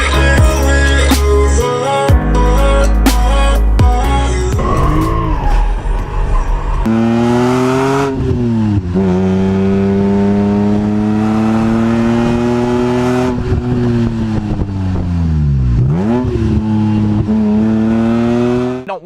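A BMW M3 with a 3.2-liter inline-six that revs to 8,000 RPM runs in sport mode. Loud, close engine revs climb and fall repeatedly with strong harmonic tones, after some sharp blips and throttle bursts at the start.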